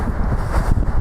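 Steady wind buffeting a microphone outdoors, a low rumbling roar with gusts swelling and fading throughout.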